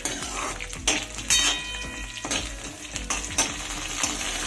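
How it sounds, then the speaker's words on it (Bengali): Green and dried chillies fry in oil in a pan, a steady close sizzle broken by repeated scraping stirs and light clinks of a utensil against the pan. "দেখো সবগুলো কিন্তু আমার হালকা করে ভেজে না হয়ে গেছে"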